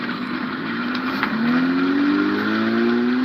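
A turbocharged Honda Odyssey's engine revs steadily and fairly loudly, with a rising drone that holds for a few seconds and no talking over it.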